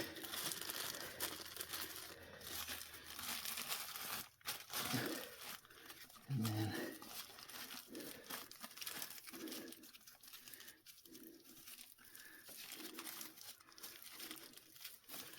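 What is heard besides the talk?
plastic bag crinkling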